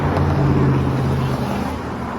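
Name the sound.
road traffic on a bridge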